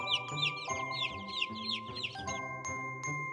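Several hens cluck and chirp in quick, busy bursts over a steady low hum, close by and moderately loud, with no talking.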